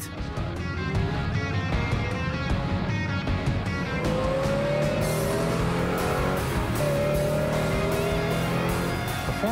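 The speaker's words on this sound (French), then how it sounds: "on peut enfin faire un essai avec la Z28" A 1969 Chevrolet Camaro Z/28's V8 engine rumbles and revs up through the gears while driving a long winding road, loud and close, pitch rising repeatedly with each acceleration.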